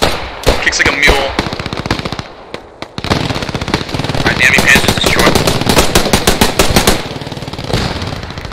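Rapid carbine gunfire in the World War II shooter game Post Scriptum, with dense bursts of loud, sharp shots running almost continuously and a brief lull near the three-second mark.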